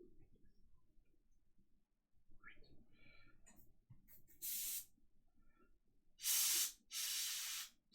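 Spray paint on miniature models, here Legion of Everblight archons: three sharp bursts of hissing spray, one short and two longer close together, between quiet clicks and handling noises.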